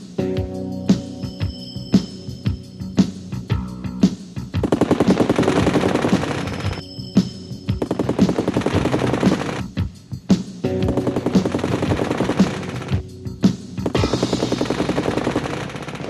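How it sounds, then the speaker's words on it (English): Bursts of six-gun .50-caliber machine-gun fire from an F-86 Sabre jet fighter, loud and close, rapid rattling volleys several seconds long separated by short pauses, with no voices. "the 6 machine guns of the Sabre"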